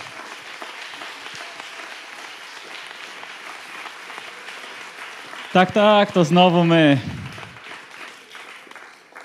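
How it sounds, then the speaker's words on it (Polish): Applause for the presenters at an awards gala in Stary Maneż, Gdańsk, steady clapping from the crowd under a voice, which rises loudly partway through before the clapping carries on. "Gromkie brawa!"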